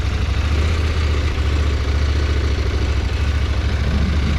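A CFMOTO 800MT twin-cylinder motorcycle engine runs at low speed, a close, steady low rumble with continuous throb and no talk over it.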